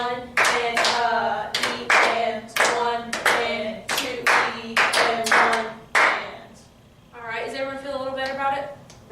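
Choir students in a choral class clap a rhythm, a run of sharp, close, evenly spaced claps, then a pause before a softer burst of clapping.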